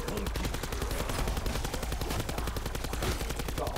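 Rapid automatic gunfire from a weapon in Black Ops 4 Zombies, a steady run of closely spaced shots lasting the whole stretch with no talking.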